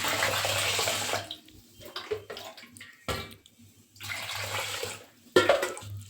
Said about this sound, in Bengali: এই যে চালটাকে ধুয়ে নিচ্ছি, চালটা ভিজিয়ে রাখবো